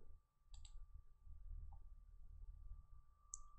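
Mouse clicks while working in Revit software, a quick pair of soft clicks early on and another near the end over a faint steady hum.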